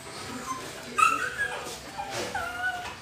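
A dog whimpers and yips in short, high-pitched bursts, fairly close, with a brief louder yelp partway through.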